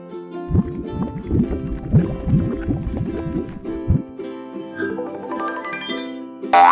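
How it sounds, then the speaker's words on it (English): A cartoon jellyfish sound effect made of a run of watery, bubbly wobbles and gurgles over a soft musical background, repeating in quick pulses before fading into lighter chimes. "A jellyfish sounds like this."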